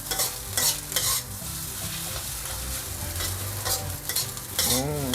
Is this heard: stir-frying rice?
yes